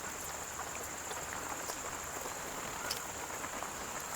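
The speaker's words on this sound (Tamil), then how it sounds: "இப்போ மழைங்க, நல்லா குளிரும் கூட." Rain falls outdoors in a village, a steady, soft, continuous patter and hiss at a moderate distance with a faint high insect-like tone running underneath, and no voices.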